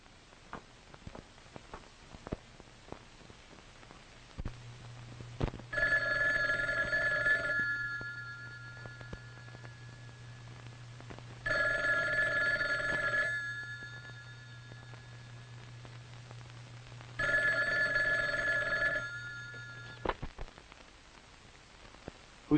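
An old telephone bell rings three times in long spaced bursts, each harsh metallic trill lasting about two seconds, over a faint crackly hum in a 1957 horror film scene.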